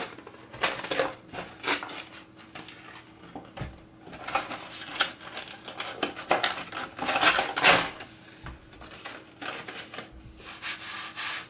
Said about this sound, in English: now we just need to try and get this mouse out of the packaging